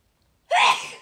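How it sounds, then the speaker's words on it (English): A single sharp sneeze bursts out after a brief silence, loud and close, trailing off quickly. "I'm gonna sneeze here."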